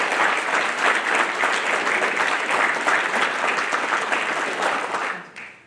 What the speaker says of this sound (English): So please join me in a warm round of applause for Electrician's Mate First Class, Surface Warfare Qualified,